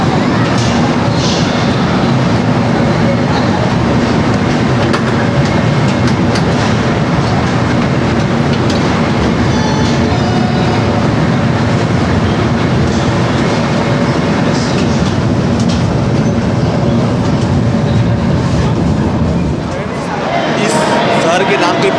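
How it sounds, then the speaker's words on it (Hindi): A Rajdhani Express train departing Agra Cantt station, a steady loud rumble and rattle of rolling carriages with faint clickety-clack, continuous throughout and tapering slightly near the end, with someone talking over it. "तो फ्रेंड्स, अभी ट्रेन यहाँ से चलने वाली है"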